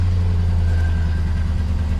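A car engine idles steadily just after starting, a loud close low hum with a smooth, even tone and no knocking, no voices over it.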